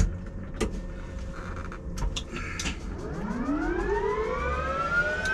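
An aircraft turbine engine, number one, spools up from rest with a rising whine that climbs steadily over a low rumble, growing louder and more tonal toward the end, heard close and alone.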